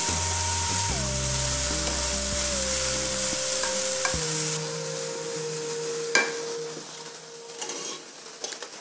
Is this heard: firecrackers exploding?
no